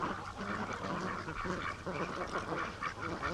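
A flock of ducks, Muscovies among them, quack continuously in a busy, overlapping chorus nearby, moderately loud with no talking.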